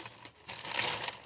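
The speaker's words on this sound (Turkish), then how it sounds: "Gördüğünüz gibi paketi açıyorum." A plastic Ramadan preparation package being torn open by hand gives close crinkling and rustling in short bursts that swell into a louder crackle toward the end, with no talk.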